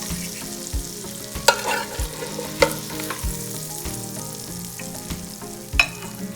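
Fish frying in butter in a pan gives a steady close sizzle, broken by occasional scrapes and taps of a utensil against the pan.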